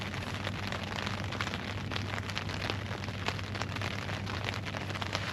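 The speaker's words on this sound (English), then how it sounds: "that rain's just starting to come down a little bit heavier now" Steady rain falls on a coastal fishing spot, a dense continuous patter with scattered heavier drops and no talk throughout.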